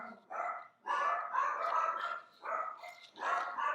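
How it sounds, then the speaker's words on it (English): Pet dogs bark indoors in several short, loud bursts separated by brief pauses, sounding close by with nothing else around them. "Barking at someone's here"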